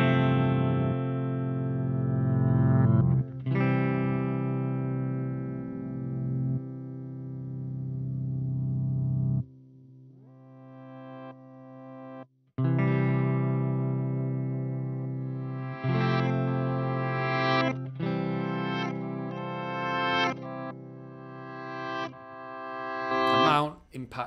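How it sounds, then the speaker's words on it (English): Guitar notes through a Hologram Electronics Chroma Console reverse delay swell in backwards with a reversed, blooming attack, sustained chords fading and restarting across several phrases, loud and washy. "Surprise, surprise, it is a reverse sound."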